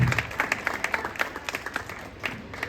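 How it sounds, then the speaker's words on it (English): A school open mic audience claps for itself in a burst of rapid, fairly loud applause, many hands together, easing off slightly after the first couple of seconds. "Clap for yourself, guys."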